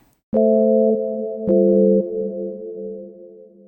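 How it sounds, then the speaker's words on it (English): Two plucked synth chords through the Valhalla Supermassive reverb plugin at high density, tones smearing into a dense, smooth reverb tail that lingers and slowly fades. "it's just sounding like a reverb straight from the get-go"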